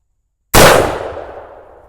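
An 1887 Winchester lever-action firing a 900 grain bullet into ballistic cloth, a single loud close blast after brief silence, decaying in a long ringing tail.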